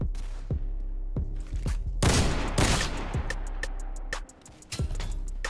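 Gunfire in the Roblox game Criminality: rapid sharp shots in quick bursts with a dense volley in the middle and scattered single cracks after, loud and close over a low steady game hum.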